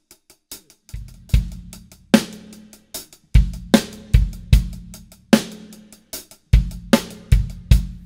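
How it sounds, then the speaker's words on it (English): A drum kit plays a hi-hat ostinato of one accented stroke followed by three light taps, mixed with kick and low drum hits in a repeating pattern, close and clear with no talking. "Pattern is going to be where I'm playing one accent and three taps."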